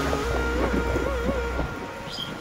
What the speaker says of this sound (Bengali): ঝোড়ো হাওয়া আর বৃষ্টি